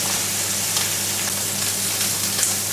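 Seasoned meat frying in a pan, a steady close crackling sizzle with scattered pops over a low hum, no voices.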